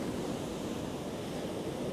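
Sea surging over a steep ledge on a gloomy coastline, a continuous rushing wash of breaking surf blended with gusting onshore wind buffeting the microphone, steady and fairly strong throughout.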